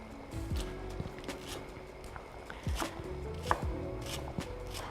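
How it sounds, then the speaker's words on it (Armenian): Fresh herbs chopped finely with a knife on a board in a kitchen, a series of crisp irregular close knocks and cuts, fairly quiet with no talk. "ես կտրատում եմ իմ կանաչիները"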